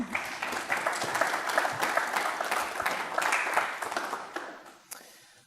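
Audience applause after a keynote talk at a symposium, a dense, steady patter of many hands clapping that fills the room for several seconds, then thins and fades at the end.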